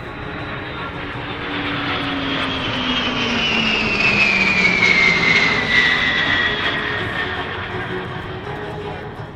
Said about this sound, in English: The E-3 Sentry. Airborne early warning and control aircraft.